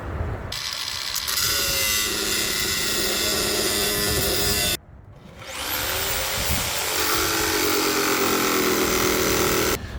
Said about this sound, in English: I just decided to use the jigsaw. Finish taking these pieces out.